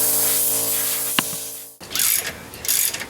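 Socket ratchet loosening the bolts on a Ford F150 differential cover: a steady mechanical whir under a faint hum, then a brief click and, after a short pause, bursts of rapid pawl clicking, close and fairly loud with no talk.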